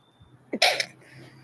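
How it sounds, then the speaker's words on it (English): A single sharp sneeze bursts out after a brief inhale, loud and close, followed by quiet. "Gotta sneeze."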